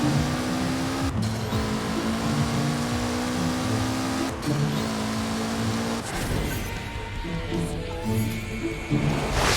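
Racing car engine in Forza Horizon 4 during a five-lap circuit race, a steady loud revving drone that climbs through the gears with brief shift dips, continuous throughout with no talk.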